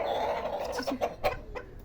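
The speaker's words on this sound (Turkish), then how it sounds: "Şu nasıl bir cins horoz acaba?" A few short clucks from a small rooster at a zoo, close by, in a quick uneven series.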